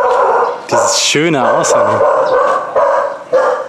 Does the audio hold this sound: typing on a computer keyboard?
no